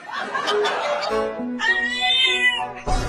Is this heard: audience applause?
no